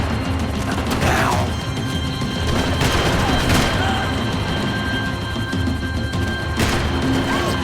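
Gunfire in the shooter game Max Payne 3, loud and continuous, with repeated crackling shots and mechanical clatter over a dense rumbling backdrop and no talking.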